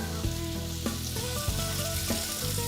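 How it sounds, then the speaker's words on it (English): Green beans fry in garlic-flavoured oil in a pan, giving a continuous close sizzle. The beans are stirred and tossed, with a few soft clatters against the pan and no talk. "just flavour the oil with the garlic and go the green beans. And you just move them in the pan for a couple of minutes"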